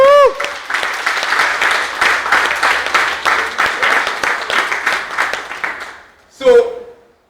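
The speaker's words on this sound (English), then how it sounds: "Let's give that sister a round of applause." An audience at a speech on reparations and reconnecting with Africa bursts into sustained, loud applause that runs several seconds before fading, with a voice heard over the clapping.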